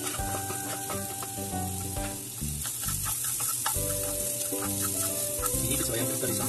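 Red onion and garlic frying in a pan, a constant close sizzle with occasional stirring clinks, no one speaking.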